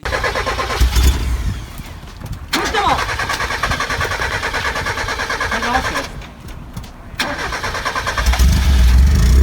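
A 1991 Mazda Miata NA engine, long abandoned, cranks and catches, then roars and settles into a rough idle with revving, close and loud, while voices talk over it in a garage.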